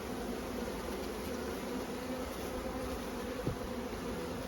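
A honeybee swarm clustered outdoors in cold weather gives a dense, continuous buzz, steady and even throughout, close and fairly loud.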